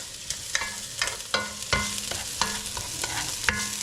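Garlic sautés in a pan for Filipino chicken tinola, a steady sizzle broken by repeated scraping stirs and light knocks of the utensil against the pan, close and alone with no voices.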